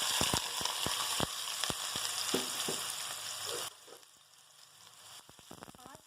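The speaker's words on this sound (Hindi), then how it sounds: "अब हम इसमें प्याज ऐड करेंगे।" Onions sizzle in hot oil in a cooking pot over a low flame, a steady loud frying hiss with sharp crackles and spatters, easing to a quieter simmering sizzle about halfway through.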